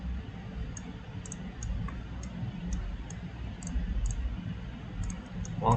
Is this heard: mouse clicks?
yes